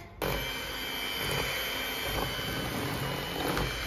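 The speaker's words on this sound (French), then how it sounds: "nous allons maintenant mélanger avec le mixeur" An electric mixer whirs on abruptly and holds a steady, loud, high motor whine while blending Oreo recipe batter close by, with faint changes in pitch as the beaters work.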